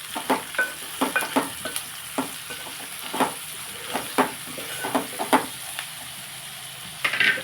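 Gongura leaves with dried prawns frying in a pan, a steady soft sizzle under repeated scraping stir strokes of a spatula, close and moderately loud, no talking.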